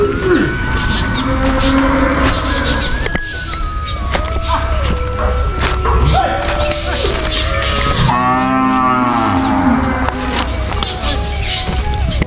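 Cows moo repeatedly at close range as a herd is led slowly toward the forest to graze, the long lowing calls rising and falling over a background of outdoor rustle and movement.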